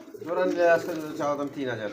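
Giribaz pigeons coo in soft, throaty rolling calls, two or three phrases close by, with a voice murmuring underneath.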